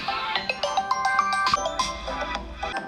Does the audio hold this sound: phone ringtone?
yes